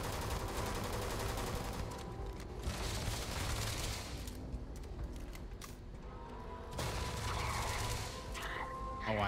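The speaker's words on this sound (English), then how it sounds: "Oh, I love the incendiary rounds." Incendiary-round gunfire in the video game Starfield roars in dense, continuous bursts of rapid shots that fill the scene, with brief lulls before the firing resumes, loud and close.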